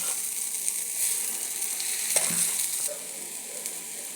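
Paniyaram batter fries in a paniyaram pan with a steady, close sizzle throughout, broken by one soft scrape partway through, with no talking.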